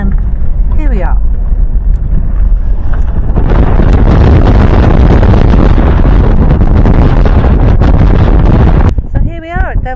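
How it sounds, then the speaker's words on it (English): Powerful wind roars and buffets against the microphone almost continuously at the cliff edge of Devil's Bridge, Antigua, loud and close, with brief voices at the start and end. "Now it's very windy, and it gets windier when I go to the edge"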